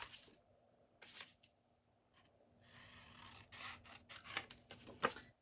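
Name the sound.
scissors cutting journaling card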